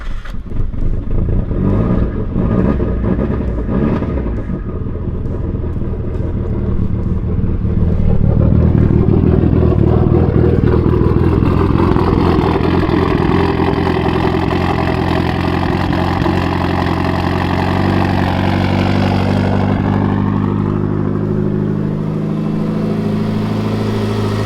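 A car engine turns over and settles into a steady, loud idle after its ignition coils are plugged back in, with a brief rev partway through, running close and alone with no talk.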